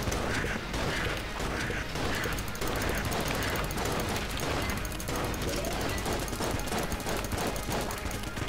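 Constant rapid gunfire from the video game Enter the Gungeon keeps up a dense, rattling stream of shots, with music and game effects mixed in. The sound stays loud and unbroken from start to finish.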